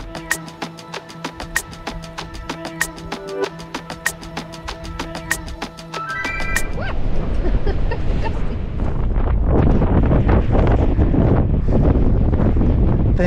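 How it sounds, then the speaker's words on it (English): Strong wind buffets the microphone on a sunny sea cliff, a steady loud roar that swells and stays heavy through the second half, with no talking. "It's very windy and sunny."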